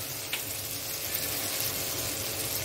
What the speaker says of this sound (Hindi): टमाटर को अच्छे से भूनने देंगे